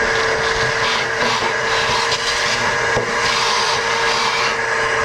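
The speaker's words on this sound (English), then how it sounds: "Now I like to vacuum just kind of along this edge, along this back edge here" A vacuum cleaner cleans out a Pit Boss Pro 1100 pellet grill, running as a loud, steady whine and roar with a few brief bumps as the nozzle knocks against the grill.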